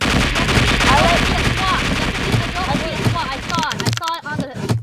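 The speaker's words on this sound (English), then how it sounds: "Why are you shooting guns?" Rapid gunfire in a video game rattles in dense bursts, loud and continuous, with sharper single shots toward the end. People talk over the shooting.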